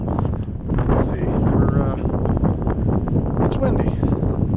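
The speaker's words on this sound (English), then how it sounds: "it's windy" Steady wind roars across the microphone on the Torrey Pines South championship golf course, a loud, constant low rush with a voice speaking over it.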